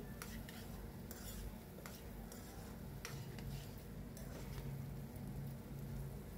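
Onions frying in a pan with a little salt, stirred now and then: a faint, steady sizzle with light utensil scrapes and taps scattered through it.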